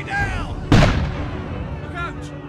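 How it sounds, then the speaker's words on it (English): A single heavy French artillery shot bursts out at close range as a sharp boom with a rolling tail, set against a siege of a fort, with a voice speaking briefly before and after. "The men in Fort William Henry had to endure the onslaught of the French artillery."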